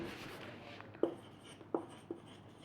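Chalk or marker strokes on a board noting acid properties, a few quiet short taps and scratches spaced apart in a hushed room.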